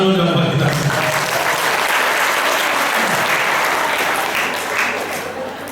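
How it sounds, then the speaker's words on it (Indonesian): An audience at a ceremonial event breaks into sustained applause, dense clapping from many hands filling the room, loud and near, fading slightly at the end, with a voice briefly audible over it. "Tepuk tangan dulu dong buat kita."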